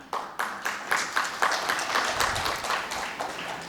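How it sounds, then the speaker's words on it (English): An audience at an education conference applauds, a dense wash of many hands clapping at a steady moderate volume, with a few sharper bursts near the start. "if those were the teachers clapping"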